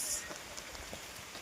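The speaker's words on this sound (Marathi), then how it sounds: "आलं परत पाऊस." Rain falls steadily outdoors on the trail to Brahmagiri, a soft, even patter with faint drop taps.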